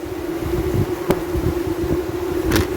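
Honey bees buzz loudly and steadily at an opened apiary hive in Macaíba, Rio Grande do Norte, a dense close drone with brief sharper passes of single bees near the microphone.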